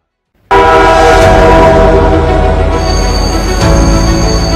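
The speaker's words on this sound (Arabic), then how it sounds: "القطار الجديد بوكزول الجلفة الأغواط يدخل حيز الخدمة بداية من 30 أكتوبر 2023" A new passenger train on the Boughezoul–Djelfa–Laghouat line sounds its horn loudly and close, a sudden sustained blast that begins after a brief silence, shifts pitch partway through and continues over rumbling rail noise.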